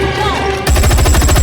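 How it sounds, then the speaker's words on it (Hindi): Rapid burst of gunfire erupts in a film scene where robbers in bulletproof gear are fired on, loud repeated cracks following a stretch of tense dialogue and score. "उन्होंने काफी देर तक गोलियां चलाईं"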